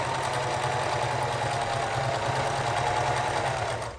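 Sewing machine with a twin needle hemming knit fabric, running continuously with a steady, fast, close mechanical hum and rapid stitch rhythm, no pauses.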